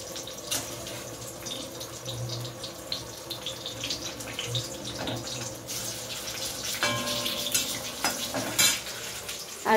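Salted eggplant slices fry in a pan without turmeric, a soft sizzle broken by irregular clinks and scrapes of utensils and some running-water-like splashes, fairly close with no talking.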